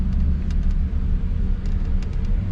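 V8 2020 Chevrolet Colorado pickup pulls away with a steady low engine rumble and road noise inside the cab, its transmission working through the gears.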